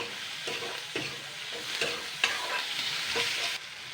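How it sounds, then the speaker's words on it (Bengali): Fried tomato and onion with turmeric, salt, chili powder and sugar are stirred in a pan: a close sizzle under repeated scraping strokes roughly every half second, with no voices. "এটা দিয়ে আবারও আমি 1 মিনিট নাড়াচাড়া করব।"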